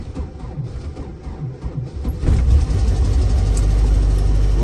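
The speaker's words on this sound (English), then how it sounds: "Let's start up the engine and listen to the beautiful sounds it makes." A UAZ 3909 off-road vehicle engine cranks briefly on a cold day and then catches at about two seconds, settling into a loud, steady low rumble close by.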